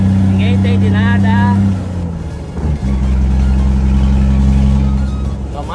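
A Scania truck's diesel engine revs and pulls hard on the road toward Goiânia, a loud sustained low drone with a gear shift dip midway, while someone talks over it at the start.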